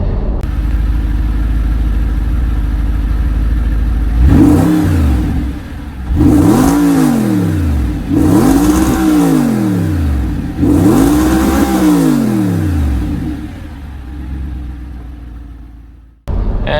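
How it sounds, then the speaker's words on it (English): Audi R8 supercar with a V8 engine revving hard through repeated rising and falling runs, each sweep swelling loudly then dropping as gears change, with a deep exhaust note and no talking. "It also sounds very amazing because this is a V8 engine"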